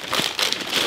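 Plain white paper inside a Jordan 2 Retro Craft shoebox crinkles as it is opened, a short, close, dense rustle with no talking.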